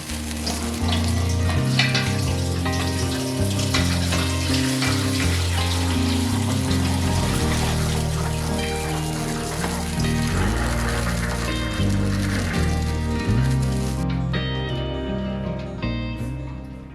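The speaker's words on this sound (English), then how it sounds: "pour the dye through the strainer into the silver pot" Dark black bean dye bath for wool pours steadily through a cheesecloth strainer into a silver pot, a continuous splashing liquid stream lasting about fourteen seconds before tapering off, with background music underneath.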